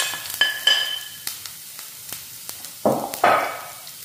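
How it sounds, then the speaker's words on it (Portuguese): Onion frying in a pan during a home-cooked lunch: a soft background sizzle broken by sharp stirring scrapes and clatters, with two louder bursts of hissing near the end. "Vou colocar logo a cebola para fritar junto."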